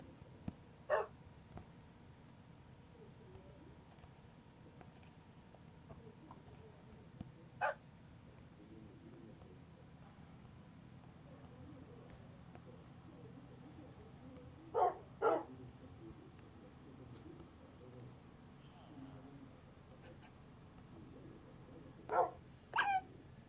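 Dogs barking in the Minecraft video game, a few short sharp barks and yips scattered far apart, single and in quick pairs, over a low steady background hum with no talk.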